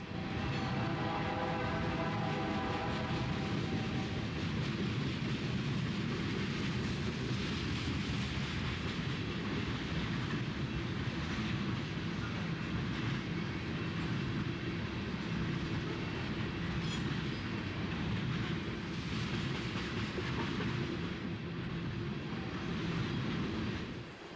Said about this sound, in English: As the rear of our train speeds by